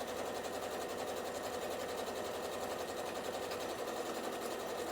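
Sewing machine stitching the last seam of a fabric bookmark, a fast, even mechanical whirring hum that runs unbroken throughout, close and steady with no talk.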